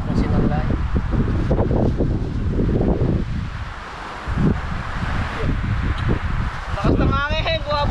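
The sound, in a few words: strong wind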